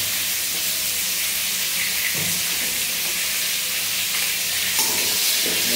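Chicken stew for a Kolkata recipe sizzles and fries on a high flame after salt goes in, with a steady hiss and a few scraping stirring strokes. No voice is heard.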